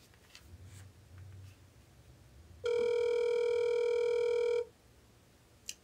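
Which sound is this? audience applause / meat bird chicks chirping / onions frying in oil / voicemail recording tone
voicemail recording tone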